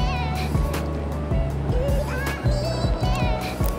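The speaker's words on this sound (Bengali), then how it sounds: "একটি মাছ ধরার নৌকা আমাদের সামনে" Fishing boat passing on a river, its engine droning with repeated low thumping pulses and splashing water, fairly close and loud.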